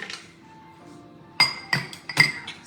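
Pieces of dark chocolate, 200 g broken into chunks, dropped into a Thermomix bowl give several sharp, bright clinks and clatters in quick succession after a quiet start, close by with no talking.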